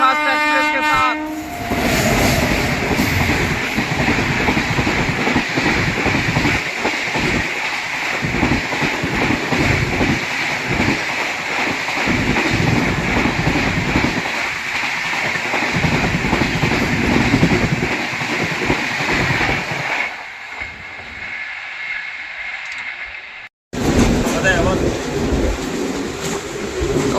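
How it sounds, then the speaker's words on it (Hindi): Onboard a Bandikui–Bareilly passenger train as it crosses the Pratap Superfast Express, a loud rolling rumble and wheel clatter runs close and steady, with a horn blast at the start, then the noise drops abruptly before resuming. "भाई ये क्रॉसिंग होने वाली है प्रताप सुपरफास्ट एक्सप्रेस के साथ।"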